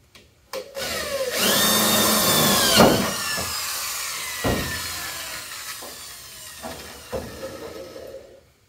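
A power drill whirs up and bores into material close by, then several shorter bursts and knocks follow as it stops and restarts.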